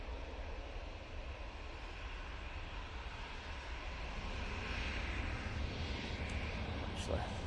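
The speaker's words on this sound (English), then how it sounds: "we're going to ignore that Ryanair taking off" A Ryanair airliner takes off at Manchester Airport, a broad steady jet roar building slightly louder through the span, with a voice faintly present beneath the engine noise.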